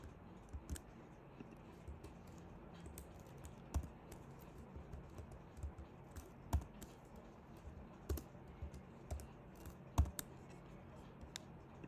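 Typing on a computer keyboard while coding, a run of soft irregular key clicks with sharper spacebar or key thumps every second or two, close and fairly quiet, with no talk.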